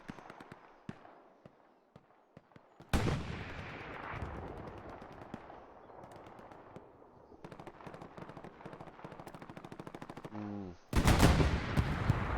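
Gunfire in a tank battle video game: bursts of rapid automatic shots, scattered single cracks, then louder heavy blasts near the end, all sharp and close.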